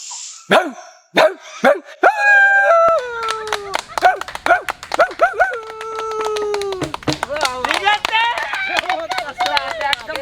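A person imitates a dog, giving several sharp barks and then drawn-out howling yelps, with laughter and other voices mixed in throughout.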